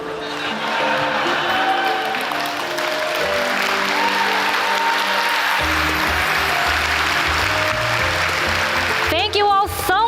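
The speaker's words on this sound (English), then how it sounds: "last round of applause for all of our amazing content creators who visited us today" A crowd at a Final Fantasy XIV fan festival in London applauds in a dense, sustained wash of clapping, with a voice speaking over it and music underneath.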